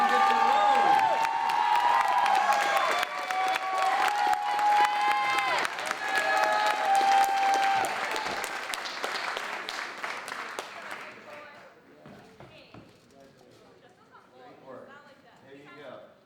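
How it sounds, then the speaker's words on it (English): A theatre audience at a school closing night of a musical claps and cheers for the student lighting designer, with whoops and loud voices over the applause before it fades into quieter chatter. "Please clap for Justin."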